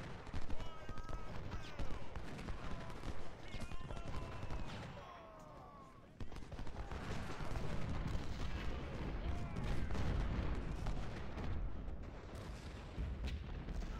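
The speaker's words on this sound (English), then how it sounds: "Let our cannons unload a little bit on them." Repeated booming cannon blasts and scattered gunfire from the battle game Ultimate General: Civil War, dense and rumbling, with a lull midway, no speech.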